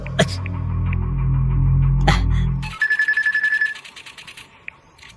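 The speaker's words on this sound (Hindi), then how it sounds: "ये टकला बार बार फोन कर रहा है" A telephone rings in a rapid burst of electronic trills after a loud low hum cuts off, then falls quiet with a faint click.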